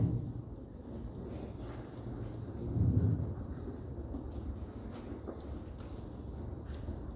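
Rain falling steadily outdoors on a cold day with a low rumble of thunder swelling briefly midway, faint and distant, no voices present.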